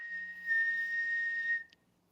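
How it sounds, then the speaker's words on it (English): A person whistles one long, steady, pure note for about a second and a half, close and clear, then it stops abruptly with nothing after. "can you whistle while you work?"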